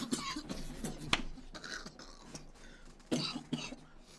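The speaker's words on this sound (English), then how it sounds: "I can't laugh too hard because I'm going to start coughing" A person coughing repeatedly in rough, uneven bursts, close up, with throat-clearing sounds between coughs.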